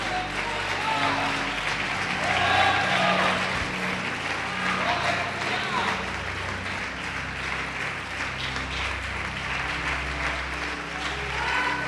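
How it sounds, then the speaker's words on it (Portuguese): A church congregation applauding during a sermon on faith and prayer, a sustained, moderately loud wash of clapping from many people, with voices rising over it and swelling in places. "Quem crê pode aplaudir o Senhor Jesus e glorificar."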